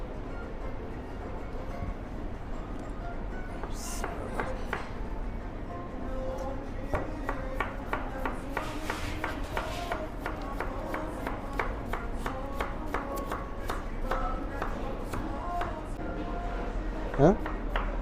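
Onion is chopped with a knife in a restaurant kitchen, a quick run of sharp, regular knife strikes against a board, close up, with people talking underneath.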